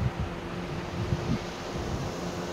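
Wind and surf along the sea shore at Shrivardhan, a steady broad rush of waves with gusting wind noise against the microphone, no talk.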